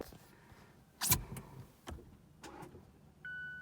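A 2017 Mazda 6 with a nearly dead battery tries to start, giving a few short weak clicks and brief cranking bursts in a quiet cabin, followed by a steady electronic chime tone near the end.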